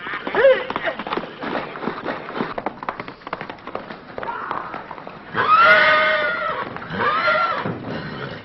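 Horses gallop with a jumble of hooves and movement, then a loud whinny breaks out near the end, followed by another neigh.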